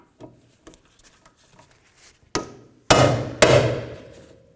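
Metal tools working loose the Phillips head screws that hold the rear brake rotor on a 1998-2002 Honda Accord: a few light taps, then several hard ringing strikes up close, each dying away.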